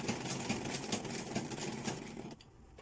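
A sewing machine running steadily, stitching an invisible zipper along a crease line, with a continuous fast whirring hum that stops abruptly at the end.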